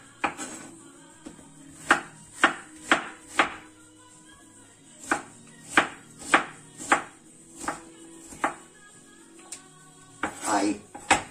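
An onion is diced on a cutting board, knife strikes landing in short irregular bursts of sharp, fairly quiet knocks separated by pauses, with faint kitchen background.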